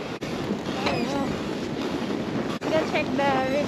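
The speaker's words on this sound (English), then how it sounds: "The wind's blowing the snow right off of the bridge." Blizzard wind roars steadily outdoors near a bridge as it blows snow, a loud continuous broadband rush with brief dips, while people talk over it.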